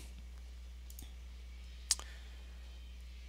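A single faint, sharp computer mouse click in a quiet room, against a low steady background hum.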